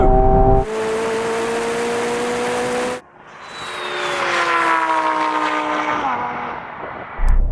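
Supercars in a drag race (Ferrari 296, McLaren 750S, Lamborghini Huracan Performante and Porsche 911 Turbo S) roar hard under acceleration, with loud rising engine notes and an abrupt gear-change gap before another surging pull.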